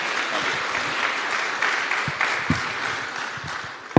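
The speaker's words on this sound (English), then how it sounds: "Please, warm round of applause for Pedro and" A conference audience at a tourism session applauds two panelists, a steady wash of clapping with a few sharper nearby claps standing out.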